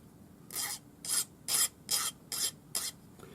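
Hand file rasping across small metal earring disc pieces held in the fingers, six even back-and-forth strokes in a steady rhythm, close and clear with quiet gaps between.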